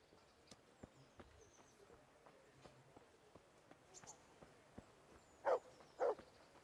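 A dog in the medieval role-playing video game Kingdom Come: Deliverance gives two short, fairly loud barks near the end, after quiet ambient game sounds with faint taps and thuds.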